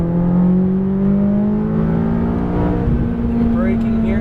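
A McLaren 570S engine drones from inside the cabin during on-board track driving. The loud, steady tone climbs slowly in pitch, then levels off as the car holds its gear.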